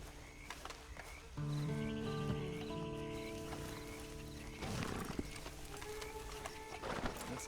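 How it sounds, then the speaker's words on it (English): Horse hooves clip-clop in Red Dead Redemption 2, a steady rhythmic plodding at moderate distance mixed with in-game ambience and a sustained musical drone, with a brief whinny-like burst partway through. "you better get on this horse."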